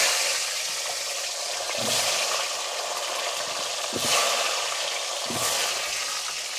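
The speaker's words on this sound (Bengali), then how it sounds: "তেল গরম হয়ে গেছে, আলু দিয়ে দিচ্ছি।" Potatoes for chicken biryani frying in hot oil, a steady, dense sizzle that holds level throughout with a few soft stirring thumps.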